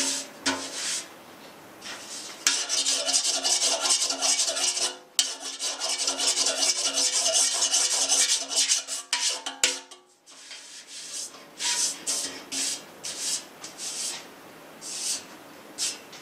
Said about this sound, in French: On râpe plutôt jusqu'à ce qu'on peut voir que le cratère